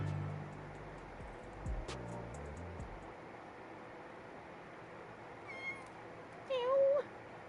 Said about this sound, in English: Meow. Kitten. Kitten!